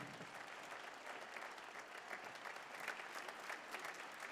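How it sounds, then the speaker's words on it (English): Steady applause from a concert audience at a holiday show band performance, a dense even patter of clapping that holds throughout without a break. "he gets a round of applause"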